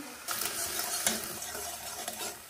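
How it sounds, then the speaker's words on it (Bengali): Cumin, chopped garlic and ginger sizzle in hot oil in a kadai, where black cumin is already tempering, with a steady crackling hiss broken by a few stirring scrapes close by. "ফোড়নে দিয়ে দিলাম জিরে, রসুন কুচি, আদা কুচি"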